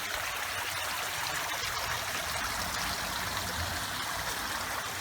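Water from a small artificial garden waterfall in a home yard splashes and trickles in a steady, continuous rush, close and moderately loud, with no talking.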